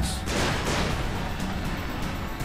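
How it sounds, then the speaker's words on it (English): Missile explosions in Red Faction Armageddon, a loud burst of blasts and rumbling debris in a dense, continuous barrage with no one speaking. "That's just some missile explodiness."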